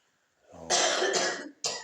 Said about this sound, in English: I like to remember the staff coughing, so don't think it's anybody